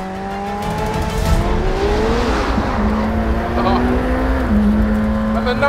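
A McLaren supercar with a 4-litre twin-turbocharged V8 drives along, its engine droning steadily and shifting pitch as it pulls, loud and close under someone talking.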